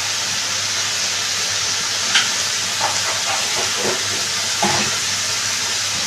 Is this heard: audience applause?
no